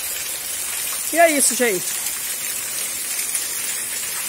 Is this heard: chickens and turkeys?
no